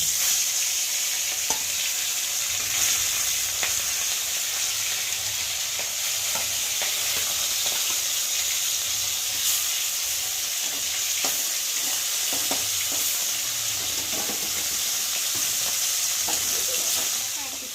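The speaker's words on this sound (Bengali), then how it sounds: "এখন তেল গরম হয়ে গেছে আর আমি একে একে মাছ দিয়ে ভেজে" Bhola fish pieces fry in hot mustard oil in a wok, a loud, continuous sizzle with scattered crackles and occasional utensil scrapes throughout.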